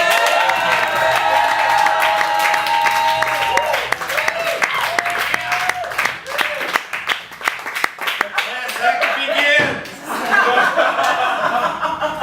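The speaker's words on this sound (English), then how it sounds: "Everybody, big round of applause for Joe Walkowski." Comedy club audience clapping and cheering for comedian Joe Walkowski, loud applause with shouts and laughter that thins out midway, then swells again near the end.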